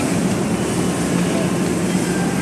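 Loud, steady rumble and roar of an LRT train at Carriedo station in Manila, dense broadband noise throughout with faint voices mixed in.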